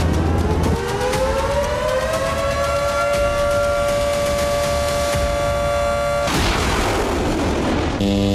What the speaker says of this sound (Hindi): हूती के हाइपरसोनिक बैलिस्टिक मिसाइल हमलों से पूरे इजरायल में सायरन गूंजने लगे।